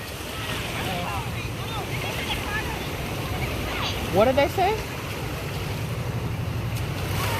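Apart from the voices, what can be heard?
ocean waves breaking at the beach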